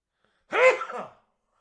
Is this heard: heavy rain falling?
no